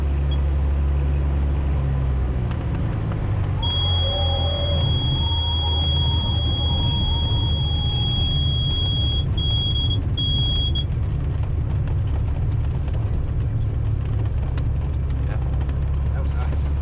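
Loud, steady drone of a Cessna 170 tailwheel airplane's engine in flight near Springfield, Illinois, a constant low hum heard from inside the cabin, with a thin high tone and voices briefly over it.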